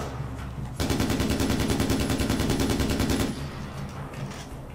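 Sustained automatic gunfire in the PC game Far Cry 4, a loud, rapid burst of shots lasting a few seconds, close and dense over a background engine-like rumble, with no talk.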